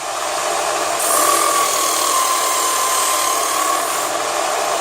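An electric sharpener grinds a blade in a steady, bright, high-pitched whine that holds unbroken for several seconds, loud and close, with no one speaking.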